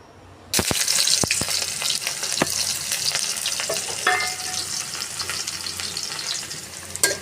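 Chopped onions hit a hot pan and burst into a loud, continuous sizzle, with occasional clinks and scrapes of a spoon stirring them close by.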